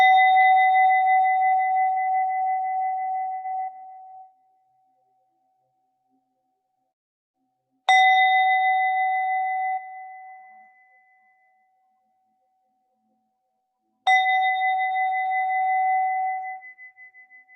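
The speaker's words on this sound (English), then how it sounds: "listen to the sound of the bell" A meditation bell struck three times, each a clear, pure ring that sustains and slowly fades, with long silent pauses between strikes and no voices.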